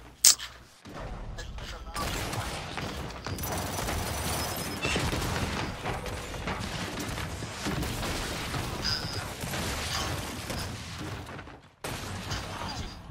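Gears 5 video game gunfire rattling in fast bursts with heavy booms, fairly steady and moderately loud, a brief pause near the end before firing resumes, with occasional talk from players.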